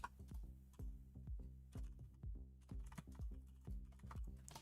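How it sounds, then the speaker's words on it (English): Quiet, rapid typing on a computer keyboard during a coding session, a close run of uneven clicky keystrokes in small bursts with short pauses, faint and with no voices. "Wait, am I typing that in wrong?"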